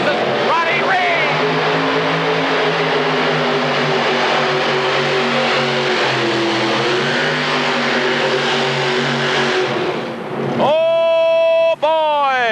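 A modified pulling tractor powered by three 8.3 Aries engines roars at a 1986 tractor pull, a loud, sustained multi-engine drone that shifts in pitch as it runs, then cuts back and screams up sharply in rising revs near the end.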